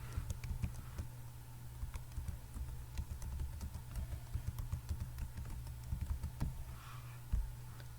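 Rapid keystrokes on a computer keyboard while a domain name is entered to log into a WordPress site, a steady run of light clicks over a low background hum.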